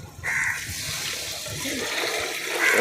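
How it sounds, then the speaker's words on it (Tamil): Water gushes steadily into a large pot of masala-coated beef for biryani, a continuous pouring rush lasting the whole moment, close and fairly loud with no talking. "மசாலாவோட பீஃப் நல்லா மிக்ஸ் பண்ணதும் இப்போ வந்து நம்ம வாட்டர் ஆட் பண்ணிக்கலாம்."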